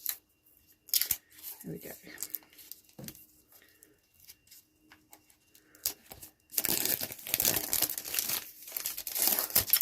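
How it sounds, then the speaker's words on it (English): Plastic wrap is crinkled and torn off a tarot card deck, with sparse soft rustles and taps at first, then a loud, sustained burst of close ripping and crumpling; someone speaks briefly. "Let's have a quick rip of the plastic."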